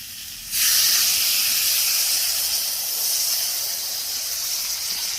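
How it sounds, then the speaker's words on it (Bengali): Water hits the hot pan of sour morola fish curry with unripe mango, bursting into a loud, close, sustained hiss of steam that starts suddenly and settles into a steady, slightly fading sizzle, no talking. "আমি জলটা দিয়ে দিচ্ছি"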